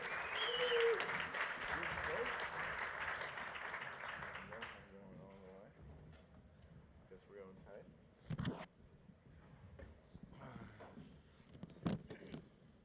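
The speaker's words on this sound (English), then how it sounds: "Please give Marc a round of applause." Applause from a conference audience welcoming a panel moderator onto the stage, loud for the first few seconds, then fading into quieter room noise, scattered bumps and the start of talking.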